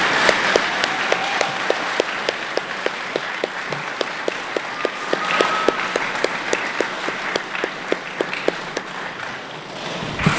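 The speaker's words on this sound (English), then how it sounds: "Let's give them all another round of applause for successfully completing this milestone." Applause for graduates at a graduation ceremony: a sustained crowd clapping that fills the whole stretch at an even level, with sharper individual claps standing out from the wash.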